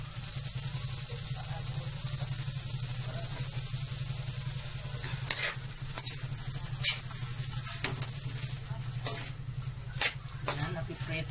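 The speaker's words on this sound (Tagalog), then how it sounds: "Naririnig niyo po ba yung kulo?" Leftover lechon simmering in dairy cream, a soft continuous bubbling sizzle with occasional small pops and crackles, faint and steady throughout.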